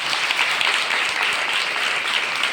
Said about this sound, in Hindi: जोरदार अपने सेवक के लिए तालियां बजाएं।